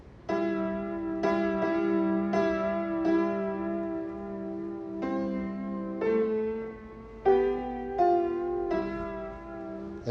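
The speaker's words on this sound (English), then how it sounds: "if I play the melody, soprano melody with the tenor part, then it will sound like this." Hymn-style piano pairs a soprano melody with a tenor part, the two voices sounding as sustained chords struck one after another at an even pace, close and moderately loud with no talking.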